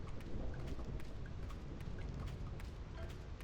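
Heavy rain hisses steadily with low rumbling thunder in the background of a Final Fantasy game, a dense, continuous storm wash with faint crackles throughout.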